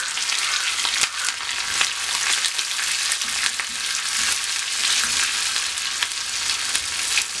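Mustard seeds, onions, dried red chilies and curry leaves fry in hot oil for a Kerala moru rasam, giving a loud, steady sizzle with scattered crackles and pops throughout, with no voices.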